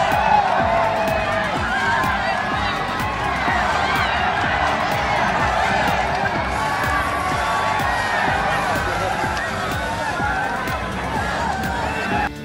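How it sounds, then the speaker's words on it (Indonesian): Spectators cheer and call out racer Dominique Aegerter's name at the Mandalika circuit as he heads toward a grandstand. The crowd noise stays dense and steady throughout, a mix of shouts and cheers with some individual voices audible on top. "Nampak penonton bersorak-sorak memanggil nama Domi dan berlari mendekati Domi"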